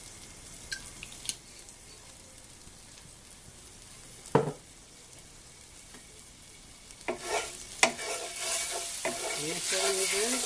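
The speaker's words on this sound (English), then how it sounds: "we use the leftover pan grease and juice and put a little bit of balsamic vinegar" Balsamic vinegar hitting hot leftover steak grease and juices in a pan, first a few scattered clinks and pops, then a loud hissing sizzle that swells and holds near the end, close and without talk.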